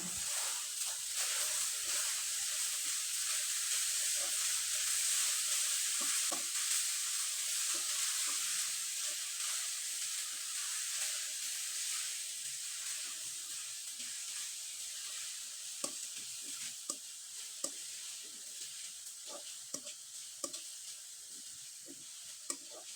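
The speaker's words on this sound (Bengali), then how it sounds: "নারকেলের পুরটা আমি খুব ভালোভাবে তৈরি করে নিলাম আর একবারে শুকনো করে তৈরি করে নিলাম" Coconut and jaggery filling for a Bengali pitha is stirred in a hot pan, with a steady dry sizzle throughout and scattered soft scrapes and taps of the spoon growing more frequent toward the end.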